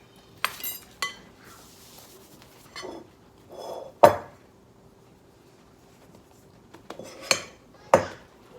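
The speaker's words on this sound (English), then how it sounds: "Just gonna use a fork to mix it up." Fork clinking against a metal pot while mixing drained noodles, with a few sharp scattered clinks and scrapes separated by quiet gaps, close and alone without talk.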